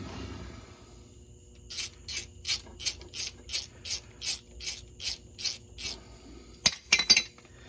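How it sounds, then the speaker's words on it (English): A hand ratchet tightens bolts on the differential cover of a Corporate 14 Bolt rear axle. About a dozen evenly spaced, crisp clicking strokes come close and steady, then a short burst of faster clicks follows after a pause. "Okay, let's use a ratchet."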